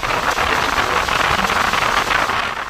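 Heavy rain and storm winds from Cyclone Remal on the coast, a loud, dense, continuous wash of falling water and gusts with no break, no voices heard.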